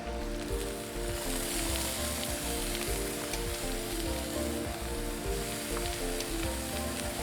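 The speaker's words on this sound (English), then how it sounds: "We'll let them sear up for a couple minutes on each side." Beef and bison fillets sear on a hot grill, giving a steady, close crackling sizzle that runs unbroken throughout with no talking.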